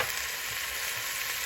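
Oxtail for Jamaican oxtails sizzles in the pan, a dense, even hiss heard up close with no break.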